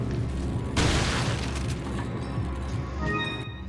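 A sudden loud gunshot boom from the video game Resident Evil 4 bursts out early, followed by a decaying crash and faint clatter, with no talking.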